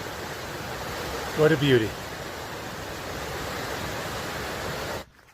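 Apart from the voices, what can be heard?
rushing water of the Kings River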